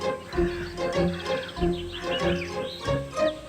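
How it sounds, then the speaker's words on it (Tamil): Cartoon crows in a Tamil children's animated story give repeated bird calls in an irregular rhythm, moderately loud and layered over a busy background with no talking. "அடச்ச, காக்கைங்களோட தொந்தரவு தாங்க முடியல"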